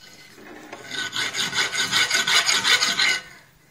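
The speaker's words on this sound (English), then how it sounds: "Unfortunately, my biggest drill bit's not enough, so I got to do a fair amount of filing there." A hand file rasps against a metal ring in quick, rhythmic back-and-forth strokes, about a dozen close, scratchy passes that build up and then fade out, with no talking.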